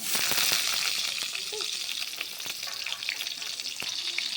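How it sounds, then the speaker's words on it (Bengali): Spice tempering frying in hot oil in a pan for a cabbage curry, with a bright, close sizzle that starts loud and eases a little, plus sharp clicks of stirring, no talk. "আমাদের ফোড়নটা বেশ ভালো করে ভাজা হয়ে গেছে"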